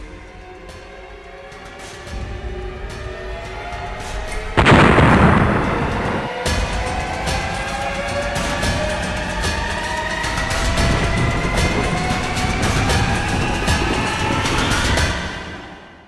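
M65 Atomic Annie nuclear cannon test firing outdoors: a single huge blast bursts out, followed by a long rolling rumble and fading echoes, with a droning hum underneath.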